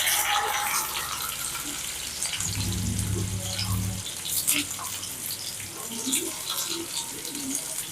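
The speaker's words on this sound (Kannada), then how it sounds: "ಈಗ ಇದು ಈರುಳ್ಳಿ ಫ್ರೈ ಆಗ್ತಾ ಉಂಟು" Chopped onion sizzling in hot oil in a pan while brinjal gojju is cooked, a steady crackling hiss that holds through the clip, with a low hum swelling briefly in the middle.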